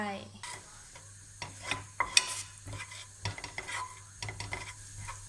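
Butter sizzles softly as it melts in a pot, while a utensil scrapes and clinks against the metal in irregular strokes, close up with no talking.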